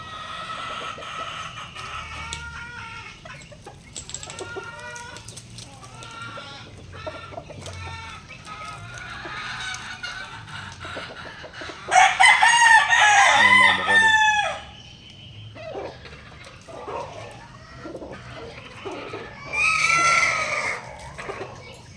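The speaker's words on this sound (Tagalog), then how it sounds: "labas ko muna ang ating stag" A young rooster, a stag, crows loudly and close by amid steady clucking and other fowl calls in a farmyard, with two strong crowing bursts standing out from the ongoing chatter.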